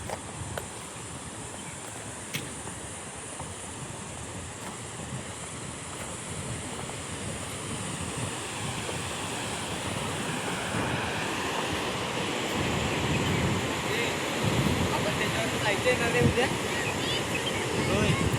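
Sea waves wash onto the shore at Hedvi beach in a steady, rushing roar that slowly swells louder, with wind buffeting the microphone.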